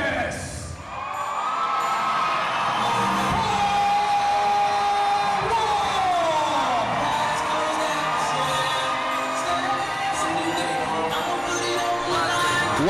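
At the Samurai MMA 3 event, a crowd roars and whoops steadily for fighter Marcus Kowal as he is introduced. The cheering forms a loud, sustained wall of noise, with an announcer's voice running over it.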